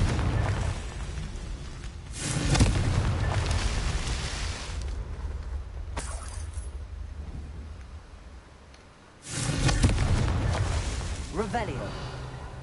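Confringo blasting spell from a wand in a wizarding game: broadband explosive bursts hit near 2.5 s and again at 9.5 s, with a sharp crack around 6 s, each leaving a rumbling tail. Voices talk underneath.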